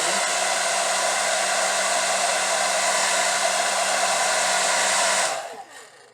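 A hair dryer blows steadily and close on wig glue for about five seconds, a loud even whoosh with a whining tone, then cuts off and winds down to quiet.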